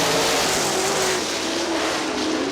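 Sprint cars in a four-car-or-more heat race at Kokomo Speedway roar away at the green flag, a dense, loud wall of engine noise with one rising pitch sweeping through it, steady and continuous throughout.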